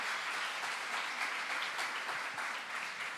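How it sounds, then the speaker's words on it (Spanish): An audience applauds in a dense, continuous wash of clapping at moderate volume, holding steady for a few seconds. "Bueno, un aplauso, un aplauso."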